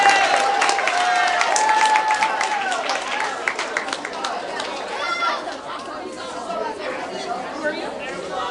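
At a seventh-grade middle school assembly, a crowd applauds with dense, rapid clapping that gradually thins out, mixed with lively chatter and voices throughout.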